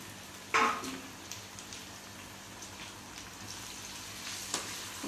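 Masala sizzles quietly in a pan for a prawn and brinjal chutney, a faint steady frying hiss with a sharp clatter near the start and a softer scrape later.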